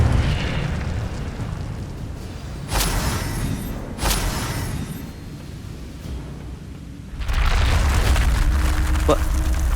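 Fire spell blasts in Hogwarts Legacy: two sharp whooshing bursts a second apart, then a louder, sustained roaring surge that rolls on to the end over a steady low rumble.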